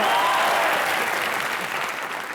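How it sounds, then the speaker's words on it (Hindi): Studio audience on a comedy show bursts into loud, sustained applause, a dense wash of clapping that tapers slightly toward the end. "जोरदार तालियां ठोको।"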